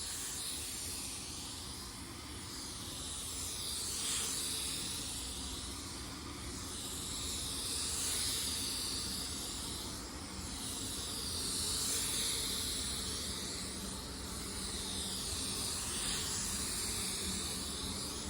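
A paint spray gun applies a third basecoat to a car panel, producing a steady close hiss that swells and fades gently in slow passes, with no voices.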